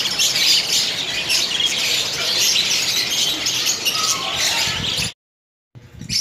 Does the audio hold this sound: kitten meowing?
no